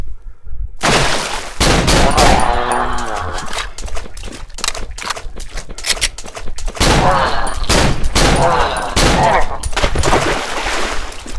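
Rapid gunfire from the horror video game Cry of Fear, loud bursts and volleys of shots repeating through most of the stretch, mixed with game effects and occasional voices.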